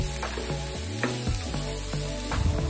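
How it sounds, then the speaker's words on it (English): Chilies and chopped onions sizzle steadily in hot oil in a pan, a continuous close frying crackle with a few soft stirring knocks and no talk. "Followed by the chilies. Saute it for a few seconds until it turns transparent."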